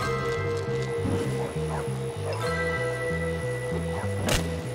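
Dogs in the schoolyard game Bully yap and whimper over a bouncy, repeating game music loop, the barks short and scattered, with a faint voice underneath.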